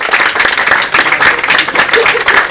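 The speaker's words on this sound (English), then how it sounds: "a nice round of applause for my wonderful co-stars" Theater audience gives a round of applause for the cast after an original play, steady close clapping filling the moment with crowd murmur beneath.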